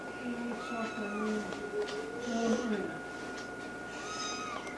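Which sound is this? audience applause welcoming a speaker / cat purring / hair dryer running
cat purring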